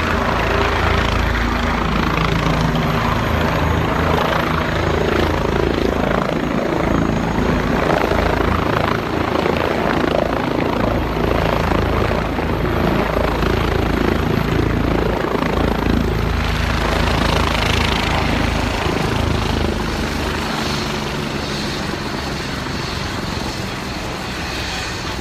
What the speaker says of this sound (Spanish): Momentos también aterriza el helicóptero.